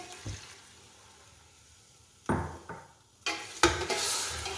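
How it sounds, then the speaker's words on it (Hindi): Water is poured into frying beef in a sizzling pan in bursts, with splashing and rising hiss, alongside a few stirring scrapes; no one speaks. "अब हम इसमें 1 गिलास पानी इसमें हम शामिल कर देंगे"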